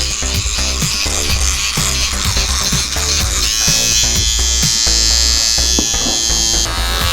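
An electric toothbrush runs close up with a loud, continuous, high-pitched motor buzz that shifts in tone partway through and keeps going without a pause.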